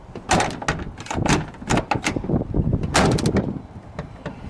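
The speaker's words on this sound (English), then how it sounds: "You gotta get a fucking running start to close the doors" The door of a Squarebody Chevy truck with a worn striker is pushed shut gently and fails to latch. Several close, loud thuds and rattling knocks follow one another, with no speech.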